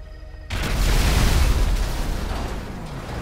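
A sticky bomb detonates in Grand Theft Auto, a single loud, deep blast that breaks in abruptly after a moment of near quiet and then rolls on as a long, rumbling tail of debris and fire.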